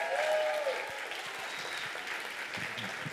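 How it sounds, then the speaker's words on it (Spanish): A short burst of audience applause at a live event, thanking a participant; steady dense clapping at moderate level, no talk over it. "Un aplauso más para Matías"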